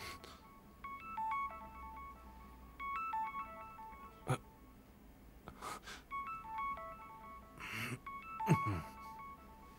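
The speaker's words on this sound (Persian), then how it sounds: "خزر این گوشی رو بردار" A mobile phone rings in a domestic scene, its repeated electronic ringtone tones sounding in bursts at moderate level, with a few brief breathy vocal sounds in between.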